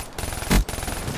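A short burst of automatic gunfire from a video game, loud in the middle, with game background noise before and after.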